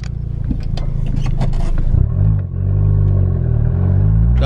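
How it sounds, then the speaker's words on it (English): A Volkswagen MK7 Golf R with a DIY Haldex switch revs hard during a burnout, a loud sustained engine drone that briefly dips near the middle before surging back, with tire scrape under it. "Nice, we're doing burnouts."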